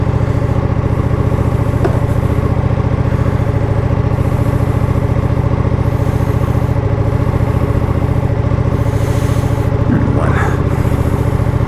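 A 2023 Ducati Panigale V2 Bayliss motorcycle engine runs at a steady, loud idle with a constant throbbing drone close by, with a brief revving rise near the end.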